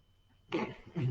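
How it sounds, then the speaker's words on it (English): A single quick, breathy burst, close and fairly soft, with a second rougher gust right after, like a stifled sneeze. "I'm about to sneeze."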